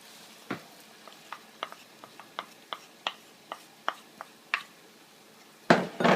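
Onions dropped into hot olive oil over potatoes for a Spanish tortilla, giving a run of quick, crisp clicks and light taps at a steady pace, then a louder, denser burst of sizzle and stirring at the end.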